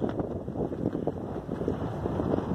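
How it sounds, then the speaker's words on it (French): Gusty wind buffets the microphone at a windy boat anchorage off Alcatraz in Baja California, Mexico, a low rumbling, uneven roar with rapid fluttering bursts and no voices. "Venteux."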